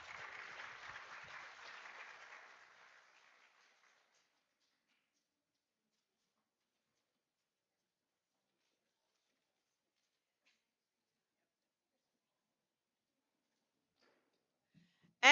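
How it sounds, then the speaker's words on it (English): A conference audience in Las Vegas applauds, a dense round of clapping that fades out over about four seconds, then near silence before a brief sharp sound right at the end. "And another round of applause."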